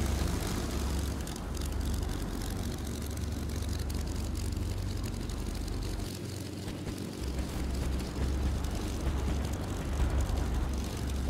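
A propeller aircraft in the video game Arma 3 takes off with a steady, loud, droning engine roar that fills the whole stretch without letting up, a dense low rumble under broadband noise and no talk.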